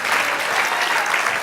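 A church congregation applauds in a dense, steady wash of clapping from many hands, loud and close throughout with no pauses.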